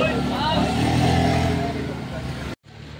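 A single-tub Fujidenzo washing machine motor, reassembled after a capacitor check, runs with a loud, steady whirring hum that fades slightly near the end before cutting off abruptly into quiet.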